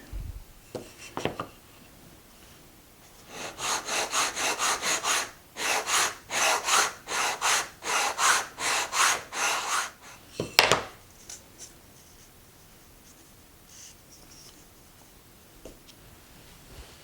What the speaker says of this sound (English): I'm just going to use a sanding block, 120